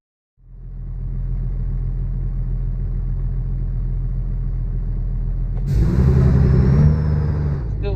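A truck engine in the WWE 2K26 video game rumbles low and steady for several seconds, then swells into a louder revving roar with a rising whine near the end.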